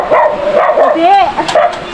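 A dog barks and yips in a run of short, close calls with whiny pitch bends, loud and repeated over about two seconds, mixed with some background voice.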